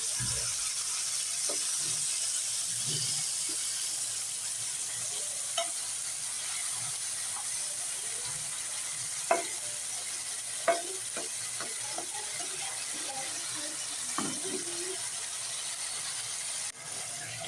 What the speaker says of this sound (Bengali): এ পর্যায়ে পানি দিয়ে দিলাম।